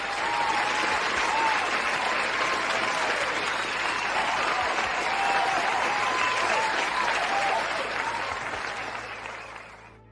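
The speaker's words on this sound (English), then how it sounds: "Let me give you a round of applause as well." Canned applause sound effect played during a live stream, a full, steady crowd clapping that holds level for several seconds and then fades out toward the end.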